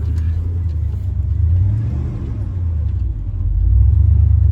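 A Ford F-150 with a 3.0 engine and a blown transmission idles in a low, steady rumble, then rises in a fuller rev toward the end, close and loud with no talk.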